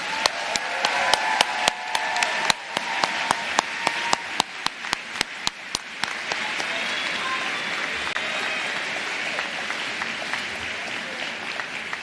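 Sustained applause from an audience honoring staff at a professional commencement ceremony, with dense clapping throughout and some sharp, distinct claps standing out near the start.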